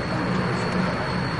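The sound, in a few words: aircraft taxiing to a remote runway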